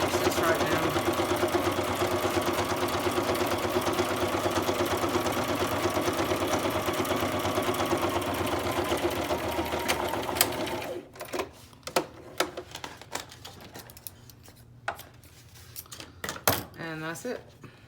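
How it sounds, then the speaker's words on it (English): A sewing machine stitches down a strip of paper for a journal page extension, its steady whirring motor running continuously for about eleven seconds before stopping, followed by scattered clicks and handling noises. "take your sewing machine"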